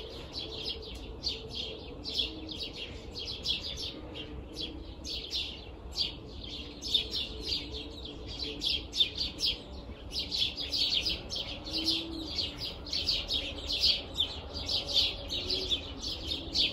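Small birds chirp and twitter continuously outdoors in a quiet countryside spot, a steady faint chorus of quick repeated calls with no talking.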